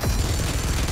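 Gunfire in the mobile battle royale game PUBG Mobile, a short, loud burst of rapid shots running together into one steady rattle.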